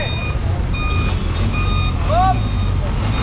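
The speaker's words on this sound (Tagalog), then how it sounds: "tow truck." Flatbed tow truck backing up on a roadside clearing job, its reversing beeper chirping in a steady repeating pattern over a constant low engine rumble and traffic noise.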